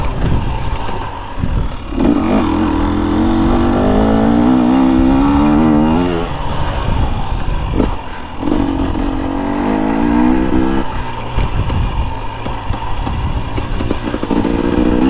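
A 2021 KTM 250XC TPI two-stroke dirt bike engine revs loud and near while ridden in third gear, climbing and falling in repeated surges with short gaps between pulls.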